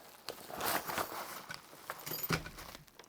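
Metal Allen keys rattle and clink while a Neewer TP12 tripod is unpacked, with irregular jangling and rustling handling noises close by, no talking.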